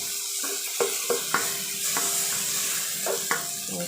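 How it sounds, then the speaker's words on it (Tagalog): Chopped tomato being sautéed in a hot pan for sinigang na bangus, a constant sizzle broken by repeated sharp scrapes and stirs of a utensil against the pan. "Saute lang natin hanggang sa maluto na yung tomato"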